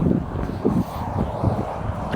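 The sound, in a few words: wind blowing into microphone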